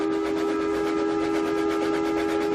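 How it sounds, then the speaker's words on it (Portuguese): A steady, loud, sustained train whistle sounds on one unbroken pitch with a faint rhythmic pulsing beneath it, heard alone with no talking. "E o apito de um terceiro trem iluminado soou."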